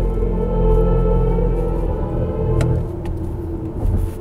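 Artificial driving sound from a BMW iX xDrive40i electric SUV played through its speakers in expressive mode, a deep steady synthetic hum with layered tones that swells and holds, heard from inside the cabin.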